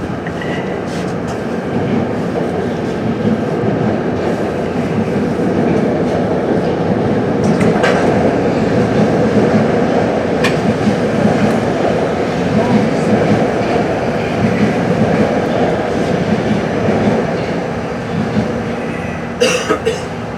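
Steady rumbling roar of a Metro-North Railroad train running on rails, heard from the cab, continuous and loud throughout, with a brief metallic squeal near the end.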